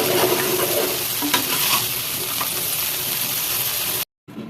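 Paneer frying in oil on a dosa tawa: a loud, dense, steady sizzle with occasional stirring scrapes, cutting off abruptly near the end before a brief return.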